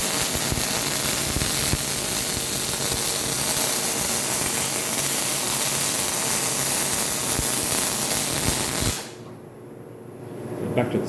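A MIG welder runs on a homemade welding positioner, a loud continuous crackling hiss that holds steady for about nine seconds and then cuts off abruptly, leaving quieter room noise.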